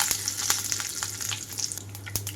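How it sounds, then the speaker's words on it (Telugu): Tempering seeds with dried red chillies and curry leaves crackle and pop sharply in hot oil, a rapid irregular spluttering of close, bright snaps over a steady sizzle. "తాలింపు గింజలంతా చిటపటమంటూ వేగేటప్పుడే"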